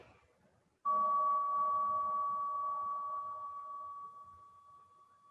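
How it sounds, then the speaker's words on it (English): A single strike on a bowl used for a mindfulness exercise rings out clearly after a moment of quiet, a pure sustained tone that slowly fades over several seconds. "I am going to ring this bowl a number of times."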